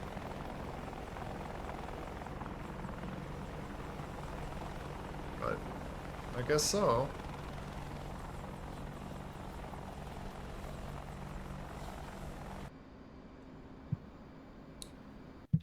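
A helicopter in the DCS flight combat game drones steadily and loudly throughout, a continuous rotor hum that cuts off near the end, with a brief voice speaking over it.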